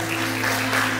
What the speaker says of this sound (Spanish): ¿Dónde están los aplausos?